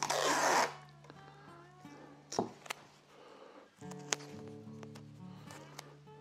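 Strip of adhesive tape pulled off its roll in a luthier's workshop while finishing a classical Torres-style guitar, a short loud ripping burst up front followed by quieter handling sounds and faint taps.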